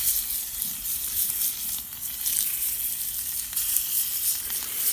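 Shrimp sizzle steadily in a hot Outset shrimp pan, a close, continuous bright crackle of frying that holds even throughout with no talking.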